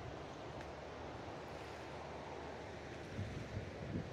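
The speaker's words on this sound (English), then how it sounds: "But isn't this beautiful river?" The McKenzie River, a cold, clear snow-runoff river, rushes in a steady broadband wash with some wind buffeting the microphone and a few louder surges near the end.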